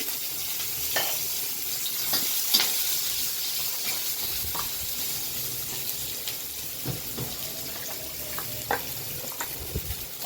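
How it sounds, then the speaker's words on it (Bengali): Chopped onion and a torn green chilli fry gently in a pan with dried red chilli, a soft, steady sizzle with occasional light stirring clicks, close and fairly quiet. "পেঁয়াজটা হালকা ভাজা ভাজা হয়ে গেছে।"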